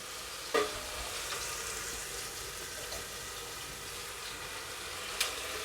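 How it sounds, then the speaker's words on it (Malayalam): Finely chopped onion frying in a pan for a Kerala-style chickpea curry, a steady soft sizzle with a couple of brief utensil clicks, close and alone. "സവാള ഞാൻ നന്നായി ചെറുതാക്കി നുറുക്കിയിട്ടുള്ളതാണ് കേട്ടോ."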